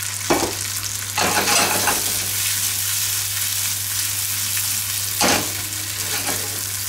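Gnocchi with herbs browning in a very hot frying pan give a steady bright sizzle, broken by a few louder bursts as they are stirred and tossed.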